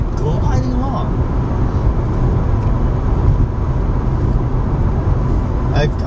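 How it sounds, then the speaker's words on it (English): A Mazda RX8 rotary engine and exhaust hum steadily from inside the moving car, a smooth, continuous low drone with faint road noise and no talk over it. "I just hear an engine turning from the exhaust in the back."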